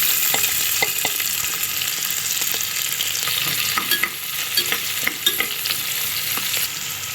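Chopped large and small onions fry in hot oil for a village-style mutton kulambu, a steady sizzle broken by repeated scrapes and clacks of a spoon stirring the pan.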